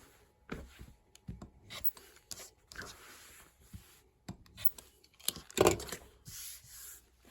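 Scissors trim the fabric corners of a sewn pillow form, giving a few soft, close snips and rustles of cloth, with one sharper, louder cut near the end and quiet handling between.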